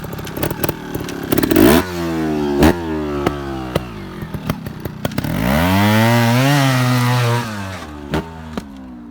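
A Beta Evo 250 Factory 2020 trial motorcycle engine revs in sharp, buzzy bursts, then holds a long climbing whine as it accelerates uphill, loud and close.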